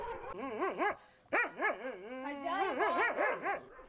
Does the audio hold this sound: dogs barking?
yes